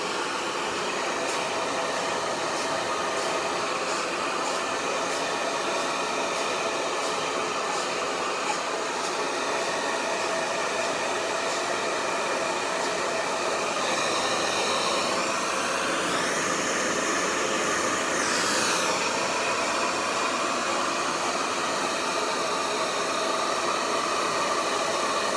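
A hair dryer blows steadily while hair is being styled, a constant loud whooshing hiss with a motor whine that shifts in pitch midway as it is moved, no talking.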